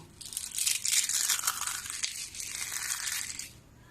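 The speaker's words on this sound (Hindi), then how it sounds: "अब मैं आपको एक बार तोड़ के दिखाती हूँ कि ये चिप्स कैसी बनी है" Crisp crunching and crackling of homemade fasting-style potato chips snapping apart, close and dense for a few seconds, then fading out.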